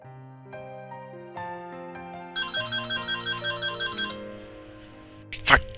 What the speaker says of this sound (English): Fucking phone!